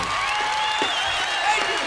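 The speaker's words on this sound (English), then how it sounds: "Round of applause, round of applause." Audience at a live concert applauds and cheers in a steady, dense wash of clapping from a large crowd.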